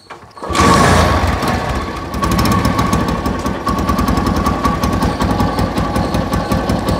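A vintage motorcycle is kick-started and fires up at once, then runs loud and close with a fast, rough, rattling idle that carries on steadily.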